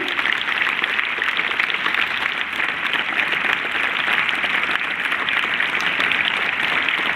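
Sustained applause from a large crowd at an event honoring a CBSE Class 10 topper, steady and dense clapping that continues at an even level throughout without letting up.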